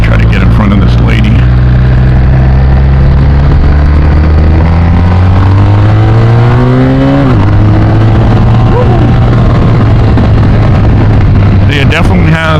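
A BMW R 1250 RT motorcycle engine accelerates loudly and close, pitch climbing through the gears with a quick-shift drop, mixed with heavy wind rush.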